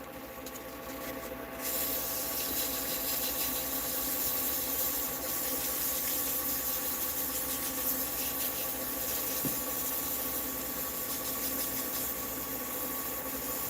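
A turned pen is sanded on a spinning wood lathe, a steady, close hiss of abrasive against wood over the continuous hum of the motor, with no talking.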